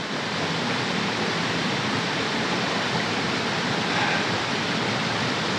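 A river flows through the woods with a steady, even rush of water that holds at a constant level from start to finish, with no voices.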